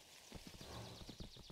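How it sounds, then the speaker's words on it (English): Horse hooves clip-clop in steady repeated beats in the video game Kingdom: New Lands, close and fairly quiet, set against a soft ambient game background. "This horse is tired again."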